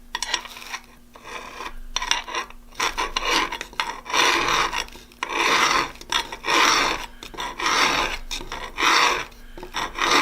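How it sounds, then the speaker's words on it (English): A hand file rasps along the radial edge of a carpenter's auger bit clamped in a sharpening jig, in repeated close, loud back-and-forth strokes with short pauses between them. "and file the radial edge"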